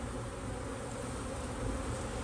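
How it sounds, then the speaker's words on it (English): A steady, dense buzzing of many bees humming all around in an urban garden, continuous and close, with no talking. "You can hear the humming all over."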